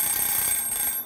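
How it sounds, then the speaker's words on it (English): A kitchen timer rings up close, a bright, high continuous metallic trill that stops abruptly just before the end, with no voices over it. "Stop the ringer if you'd like."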